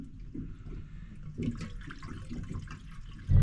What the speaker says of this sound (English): so I'm going to put some more water in that.